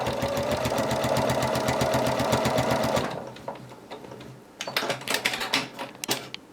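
A sewing machine stitches a quilt in a fast, steady mechanical chatter for about three seconds, then stops, followed by scattered clicks and handling noises.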